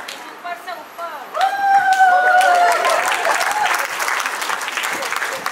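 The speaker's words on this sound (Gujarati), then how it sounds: "ચલો એકવાર જોરદાર તાળીઓ થઈ જાય" An indoor audience at a women's group event breaks into loud, sustained applause, with cheering and a few voices rising above the clapping throughout.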